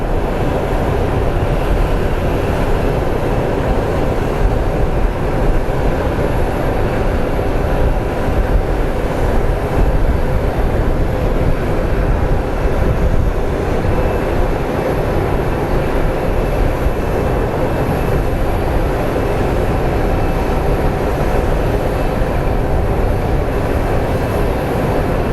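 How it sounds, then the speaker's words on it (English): Steady, loud broadband roar of a Delta airliner arriving from Salt Lake City to land at Phoenix Sky Harbor airport, a constant rushing engine and wind noise that holds without pause. "It is Delta 891 coming in from Salt Lake City. So we're going to go up and anticipate its arrivals."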